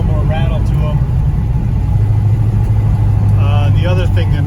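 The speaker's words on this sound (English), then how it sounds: "It's got a 512 cubic inch engine in it. That's why it's a little rattlier." A 1965 Plymouth Belvedere with a 512 cubic inch stroker engine and solid roller camshaft idles with a loud, steady, rattly rumble, while someone talks over it.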